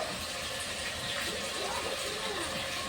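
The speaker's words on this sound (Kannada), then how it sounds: "ಬೋರ್ವೆಲ್ ಚಾಲು ಮಾಡ್ಯಾರ ನೀರು ತೊಗೊಳಕ್ಕೆ ಅದ್ರ ಸೌಂಡ್ ಬರ್ಲಾಗತ್ತಿರ್ಬೇಕ್ರಿ" A borewell pump runs and draws water, heard as a steady, continuous rushing hiss of flowing water with a faint background murmur throughout.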